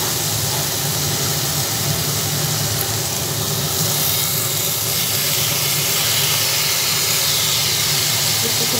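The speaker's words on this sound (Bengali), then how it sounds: "যুক্তি ফুলগুলোকে একটু ভেজে নিচ্ছি।" Squash flowers frying in hot oil in a pan, a steady loud sizzling hiss that runs unbroken throughout with no talking over it.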